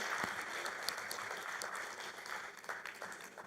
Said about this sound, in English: Ladies and gentlemen, a warm round of applause to all of our speakers and our discussion